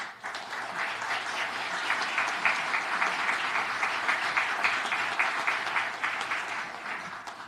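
Steady audience applause welcoming a speaker at a historical marker dedication ceremony, a dense crowd of clapping hands sustained evenly for several seconds with no talk over it.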